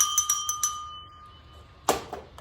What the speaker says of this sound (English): This is a glass bell.